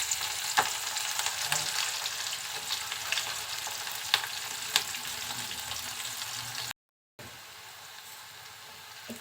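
Chopped onion and garlic sizzle steadily in hot oil with dried chilli for a vegetarian cabbage fry, a close, continuous crackling fry with faint stirring and a brief dropout near the end.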